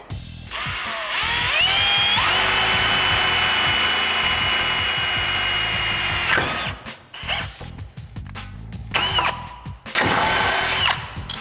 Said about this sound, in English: Now we're going to drill our holes from the bottom up.